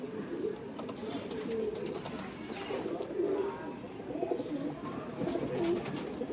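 Pigeons coo steadily at a loft, several birds overlapping in a continuous low, murmuring chorus that stays close and fairly loud throughout, with a few faint chirps mixed in and no talking.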